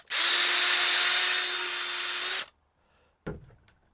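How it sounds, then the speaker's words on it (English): A power drill bores a small hole in a piece of wood while setting up leek planting. The motor whines steadily and close for about two seconds, then stops, followed after a pause by a brief knock. "What I'm going to do now is drill a small hole in the middle of that,"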